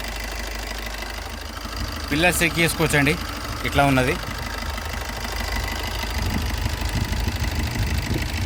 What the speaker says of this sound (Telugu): ఇంజన్ సౌండ్ మాత్రం ఇట్లు సార్, చెక్ చేసుకోవచ్చు.